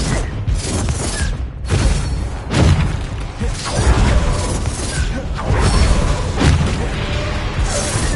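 Bombarda spell blasts from Hogwarts Legacy fire in loud, repeated bursts, each a booming crash with whooshing, shattering debris, several impacts spaced roughly a second or two apart over a continuous rumbling background.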